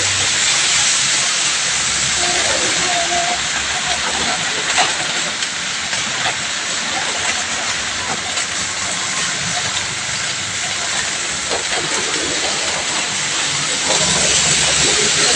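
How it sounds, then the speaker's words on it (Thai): Rain falls in suburban Bangkok as a loud, continuous hiss that stays even for the whole stretch, with no clear speech. "ดูบรรยากาศตอนฝนตก แถบชานเมืองกรุงเทพมหานครกันนะจ๊ะ"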